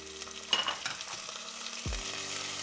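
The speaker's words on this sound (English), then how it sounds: "We're gonna stir it up and we're gonna fry it for about 2 minutes." Washed, drained rice frying in a couple of tablespoons of hot oil, sizzling steadily up close with a sharp spoon scrape and a soft low thud partway through.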